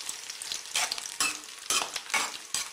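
Cauliflower florets fry in oil for a Telugu cauliflower pickle, giving a steady crackling sizzle with repeated louder bursts of stirring, close and with no voices.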